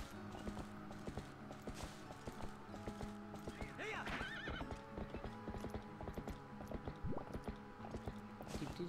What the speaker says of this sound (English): Just a leisurely stroll on my horse.